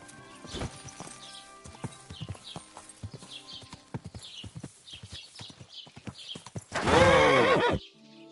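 A horse in Kingdom Come Deliverance 2 clip-clops at a steady walking pace, then lets out a loud, drawn-out neigh near the end, close and clear.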